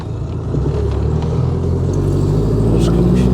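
An Alfa Romeo Giulia GT 1.6 Junior engine idles in a low, steady rumble as the car drives out of a garage, with the sound swelling slightly in the enclosed space and a person talking faintly.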